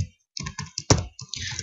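Computer keyboard typing, a run of crisp, close key clicks in uneven bursts, with one sharper, louder strike near the middle, and no talking.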